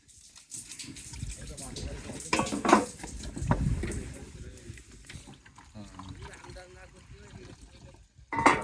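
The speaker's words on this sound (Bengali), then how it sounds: "প্রথমে সাগরের পানি দিয়ে একটু ধোয়া হয় এরপরে মিষ্টি পানি দিয়ে ভালোভাবে ধুয়ে নেয়" Metal plates being washed with seawater aboard a fishing trawler in the Bay of Bengal, with clattering knocks and sloshing water in uneven bursts, close by, while people talk.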